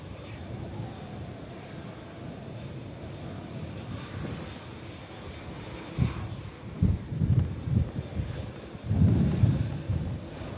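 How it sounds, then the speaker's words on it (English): A TUI Boeing Dreamliner airliner taxis at Manchester Airport toward Terminal 2 on a windy stormy day, its steady jet engine whine and rumble heard from a distance, with some louder gusty swells near the end. "TUI Dreamliner on a taxi in as well, heading up into Terminal 2"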